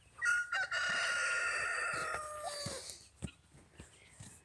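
A rooster crows loudly and close among a flock of chickens that includes Brahma, Leghorn and Silkie birds, followed by soft clucks and scattered scratching sounds.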